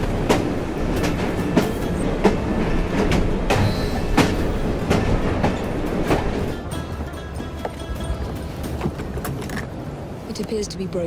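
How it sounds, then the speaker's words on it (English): A train in Assassin's Creed Syndicate rolls steadily along the rails with rhythmic clickety-clack and rumble, loud and continuous, while a voice talks over it. "At least we have a train now."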